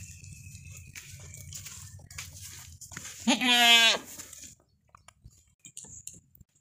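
A large goat lets out one loud, wavering bleat close by. It is surrounded by quieter farmyard background noise.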